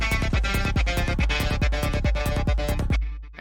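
Jingle Bells plays as a trance arrangement with a rhythmic trance gate chopping the sound into fast, even pulses over a thumping beat, loud and full, then cutting off abruptly near the end.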